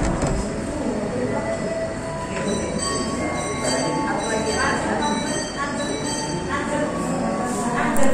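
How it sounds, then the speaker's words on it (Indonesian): Serayu passenger train standing at a station in Priangan Timur, preparing to depart, with a steady loud rumble and hum of railcars and faint metallic clinks throughout, a voice talking over it. "Kereta api Serayu bersiap untuk diberangkatkan kembali."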